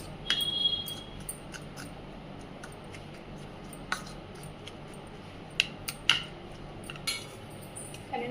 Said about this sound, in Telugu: శనగపిండి కలుపుకున్నాము